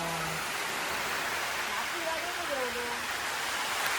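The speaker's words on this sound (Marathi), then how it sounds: "जोरात दिलो पाऊस." Heavy rain pours down during a fishing outing, a dense, constant hiss filling the whole stretch, with a faint voice briefly audible under it.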